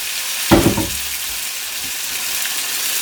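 Half a tin of chopped tomatoes lands in a hot pot of cowboy beans, giving a short sharp splash and sizzle that quickly settles into a steady low hiss of cooking.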